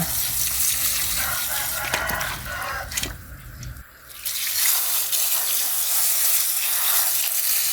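Young red lotus stems are washed clean in water with a continuous, close splashing rush. The sound dips briefly midway and then returns at full strength.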